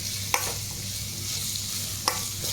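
Food frying in a pan, a steady soft sizzle with two sharp clinks of a utensil against the pan, no voices.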